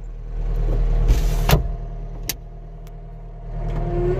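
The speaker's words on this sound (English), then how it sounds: "Get our window shut up." Skid steer cab window pulled shut at a log pile, a brief knock and clunk of the window closing over a steady nearby engine idle.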